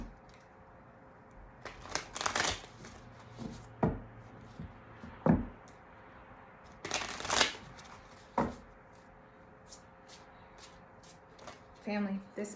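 Tarot cards being shuffled during a Libra reading, in several short bursts of riffling separated by pauses, fairly close and moderately loud, with a faint low hum underneath.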